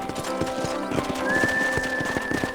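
Steady clip-clop of horse hooves trotting at an even rhythm in the video game Red Dead Redemption, with a sustained tone rising in the background partway through.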